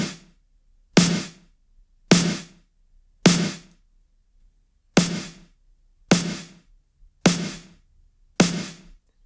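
An unprocessed snare drum from a synthwave backing track, without smash-and-grab processing, hits eight times at a steady, moderate pace, each crack sharp and decaying quickly into near silence, played alone.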